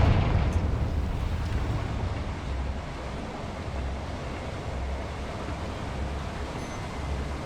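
A Confringo blasting spell bursts in the wizarding game Hogwarts Legacy, aimed at a boiler, giving a deep rumbling explosion at the start that fades into a long, steady low roar.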